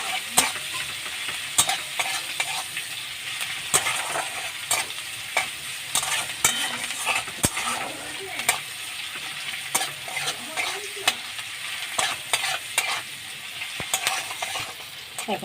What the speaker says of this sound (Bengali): কেটে রাখা পেঁয়াজগুলোকে দিয়ে আমি ভালো করে ভেজে নেবো পেঁয়াজটা